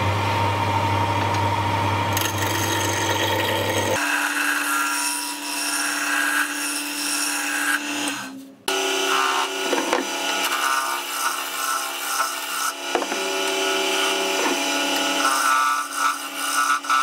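A wooden spinning top turning on a lathe, a steady machine hum that shifts tone partway through as the tool engages the wood, giving a rough scraping, rubbing cut with a brief pause midway.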